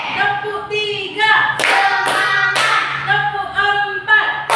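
Sharp, loud hand claps in a few short bursts, close by, spaced between stretches of sustained tonal sound, as in an ice-breaking clapping game with counted patterns.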